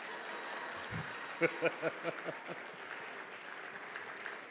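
An audience at a Merck Foundation Africa Asia Luminary conference applauds Honorable Sarah Opendi of Uganda: a dense wash of clapping with a run of sharper, rhythmic claps rising out of it midway, then settling back.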